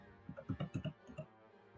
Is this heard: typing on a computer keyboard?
yes